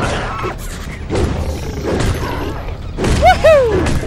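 The Hobby Horse weapon smashes in Alice: Madness Returns with several heavy, booming thuds spaced a second or so apart, followed by a sharp whistling swoosh near the end.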